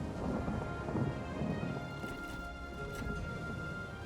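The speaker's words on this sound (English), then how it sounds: "Oh, of course it rains." Steady rain with rolling thunder from the Fire Emblem Fates video game, a dense continuous wash of rainfall and low rumbling that swells briefly, with no talking.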